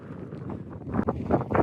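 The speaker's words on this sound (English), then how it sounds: "It's so windy." Strong, gusty wind buffets the microphone in uneven roaring bursts that swell louder toward the end, with no voices, on a mountain pass of the Four Pass Loop in Colorado's Maroon Bells-Snowmass Wilderness.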